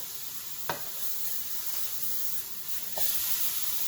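Ground pork sizzles steadily in a hot pan after being flipped, a constant hiss of frying with two brief clattering pops as pieces are turned over.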